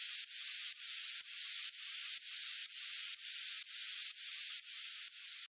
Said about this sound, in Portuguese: E esse white noise aqui.